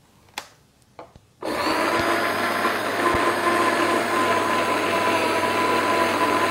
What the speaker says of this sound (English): Let's get extruding. It's going to get noisy.